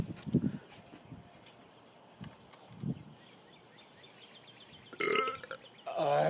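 Several burps come in short, separate bursts, low and gurgling, with louder, harsher belches toward the end over a quiet background.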